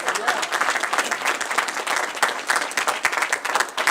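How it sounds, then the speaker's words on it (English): A crowd claps at the reopening of Highwood Hills Rec Center, dense continuous applause with a fluttering, uneven rhythm from many hands nearby. "Clap for them too, please."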